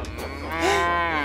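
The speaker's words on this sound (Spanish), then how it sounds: "¿Escuchaste eso? Eso sonó como una vaca." A single drawn-out cartoon cow moo from Thomas and Friends rises and swells, loud and close, with no talking.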